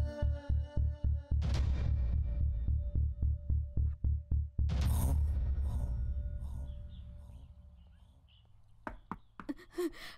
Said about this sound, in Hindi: कोई दरवाजा नॉक कर रहा है